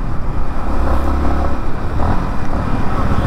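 A Yamaha MT-15 2.0 motorcycle engine gives a steady, loud, low rumble while riding, with constant road and wind noise close by.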